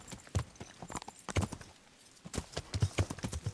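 Horse hooves clip-clop in Kingdom Come: Deliverance, a medieval open-world game, with a run of close, fairly loud irregular hoofbeats in short bursts and a brief lull midway.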